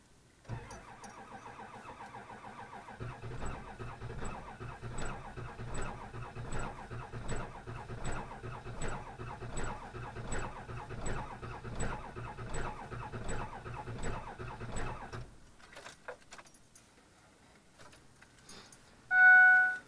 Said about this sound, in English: This starter is already working real hard